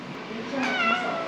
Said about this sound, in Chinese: 哇，好多猫咪！